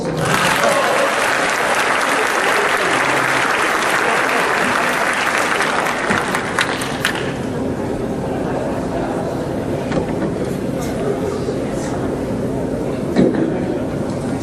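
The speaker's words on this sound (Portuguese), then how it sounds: "Palmas, gente." Audience applause at a talk on creativity and innovation, steady and dense for about seven seconds and then thinning to a lighter, scattered patter that lingers under a murmuring room.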